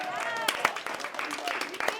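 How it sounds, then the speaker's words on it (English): Audience applause with scattered hand claps rising and falling in short bursts, heard alongside a voice talking over it. "Round of applause for you."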